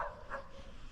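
A dog at a woodland firewood-cutting site gives two short, close barks in about a second, with a steady low background rumble underneath.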